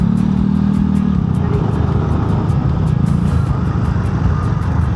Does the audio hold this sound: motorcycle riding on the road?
yes